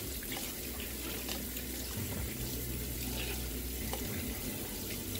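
Tap water runs steadily into a sink while celery stalks are rinsed clean before going into a storage container, a continuous close splashing wash with no talk.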